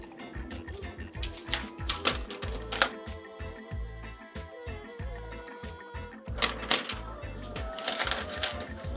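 Scissors cut out DTF transfer prints, a run of crisp, repeated snipping and paper rustle close by, with no talking.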